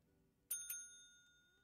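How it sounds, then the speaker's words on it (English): A service bell in the Hotel Business Simulator game rings twice in quick succession, bright and metallic, with a long ringing decay over quiet background. "those bell ringing are so effing annoying"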